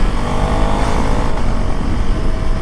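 Husqvarna Svartpilen 401 scrambler motorcycle on the move, a loud continuous engine drone mixed with wind rush, steady and close throughout with no voice.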